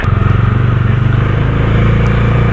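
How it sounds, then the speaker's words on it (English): A Bajaj Dominar 250 motorcycle idles close by with a deep, bassy, throbbing stock exhaust pulse, loud and steady throughout. "the exhaust note is really nice, it's very much bassy, and it's actually pretty loud as a stock exhaust"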